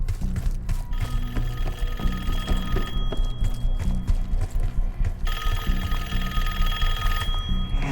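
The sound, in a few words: telephone ringing in video game Call of Duty Black Ops 6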